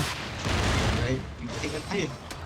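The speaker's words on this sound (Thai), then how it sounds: "เฮ้ยเฮ้ยระเบิดรอบตัว" Dense, rumbling bursts of gunfire and explosions from Monster Hunter Rise fill the clip, loud and continuous, with a voice talking briefly underneath the chaotic blasts.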